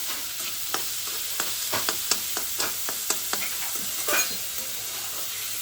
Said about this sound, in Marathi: मस्त आता कांद्याला थोडं ब्राऊन होऊन द्यायचं, जास्त शिजवायचा नाही, तो थोडासा फक्त नरम झाला पाहिजे कांदा.